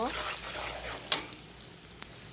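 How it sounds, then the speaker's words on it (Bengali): Potato and egg curry frying in a pan hisses softly as salt is added and the mixture is stirred, with a few sharp scrape clicks from the utensil. "লবণটা দিয়ে আরেকটু নাড়িয়ে দিব"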